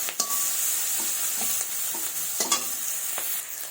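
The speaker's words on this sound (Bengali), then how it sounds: "পেঁয়াজ কুচিগুলো ছেড়ে দিলাম। একটু ভেজে নেব পেঁয়াজগুলো।" Chopped onions sizzle steadily in hot oil for a fish curry, a continuous close hiss broken by a few sharp spoon-scrape clicks as they are stirred, with no talking.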